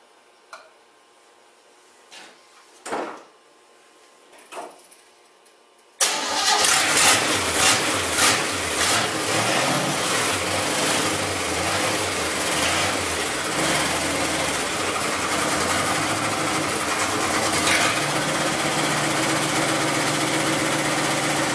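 An old GMC truck running on bad gas gives a few faint clicks and cranking sounds, then the engine catches and runs loud and steady at close range for the rest of the time.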